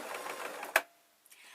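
A sewing machine stitches fabric for a tablet sleeping bag in a steady, rhythmic run that ends with a sharp click, followed by near silence and a couple of faint taps.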